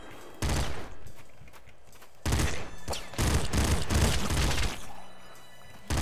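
Rapid assault rifle fire in the video game Nuclear Throne, loud bursts of gunshots with explosive booms coming in sustained volleys separated by brief pauses.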